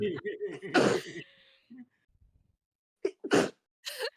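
Two sharp sneezes burst out close up, separated by a pause, with a small voiced sound between them.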